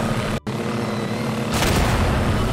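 A powerful gun in Garry's Mod fires with a sudden broad blast about midway, loud and close, over a steady low rumbling game background after a brief dropout near the start.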